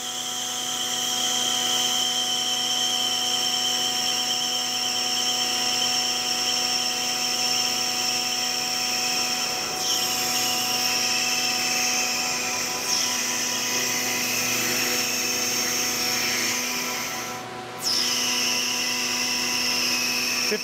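A metal lathe takes a 40-thousandths-deep cutting pass at 9 thousandths per revolution while turning a camera lens adapter. It makes a steady, loud mechanical drone with a constant tonal hum, unbroken for about twenty seconds.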